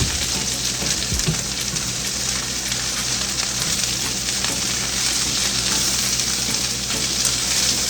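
Cabbage fries in oil previously used for sausage and peppers, giving a loud, continuous sizzle and crackle with occasional stirring noises close by.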